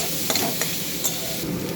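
Greens being stirred with fried peanuts and slit green chillies in a frying pan, with a steady sizzle and a few scraping stirs close by, no talking.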